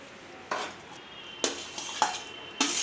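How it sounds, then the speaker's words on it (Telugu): Potatoes go into a pan for potato kurma, heard as four separate clattering metallic knocks and scrapes of a utensil against cookware, close and sharp over a quiet background, with no talking. "ఇప్పుడు మనం ఆలు వేసుకుందాం."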